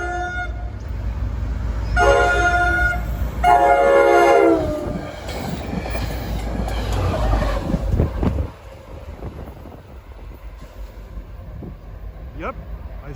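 NJ Transit locomotive XO4 passes through Ramsey with two loud horn blasts, then the rumble and clatter of its cars continuing before dropping to quieter trackside ambience; people talk faintly nearby.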